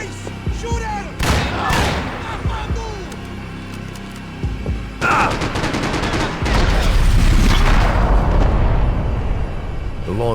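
Gunfire in the video game Max Payne 3 cracks in sharp scattered shots, then thickens into a dense, loud barrage with booming hits and shouted voices in the mix.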